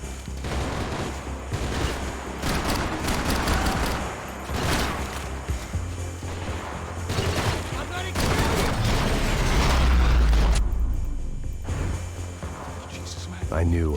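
Uzi submachine-gun fire in the Max Payne 3 video game, a favela cemetery shootout, with rapid bursts and scattered shots over game music and explosions, fairly loud, while a voice talks over the action.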